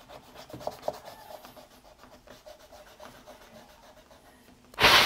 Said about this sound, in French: gommer tout ce qui est trait de construction